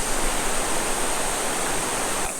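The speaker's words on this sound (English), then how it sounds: "You have all these cascading falls everywhere." A cascading waterfall near the Havasu Falls campground pours continuously, giving a dense, loud, steady rush of falling water with no break.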